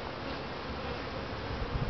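Honeybees buzzing on hive bars being transferred into a box, a dense, continuous hum close by and fairly quiet, with no voices.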